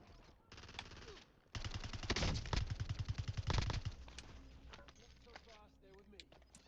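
Gunfire in a shooter video game, rapid bursts of automatic fire rattling loudly through the middle of the clip with a voice talking over and around it.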